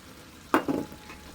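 Flour being stirred into a hamburger stew gravy in a pot, heard as two quick scraping strokes of a spoon over a faint simmer.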